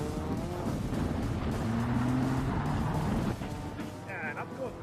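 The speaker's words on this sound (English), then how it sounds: "Rev it up, rev it up." A rally car engine revs loudly and steadily during an ICCR race, its droning tone rising in pitch and staying close throughout, with a co-driver's voice talking over it.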